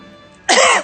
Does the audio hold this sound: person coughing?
yes